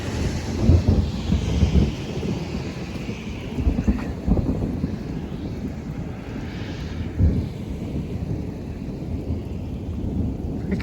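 Deep rolling thunder from a cloud-to-ground lightning strike during a mesoscale convective storm over Highland County, Ohio, rumbling loudly in several surges over steady rain and wind buffeting the microphone.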